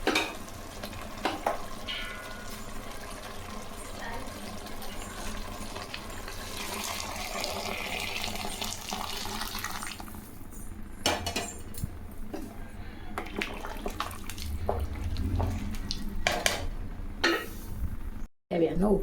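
Hot water poured into a large pot of cooked chicken curry for biryani, with a steady splashing pour amid clanking pots and utensils in a home kitchen, continuous and close.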